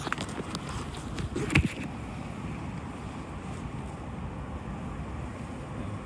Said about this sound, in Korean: 바람이 제법 세네요.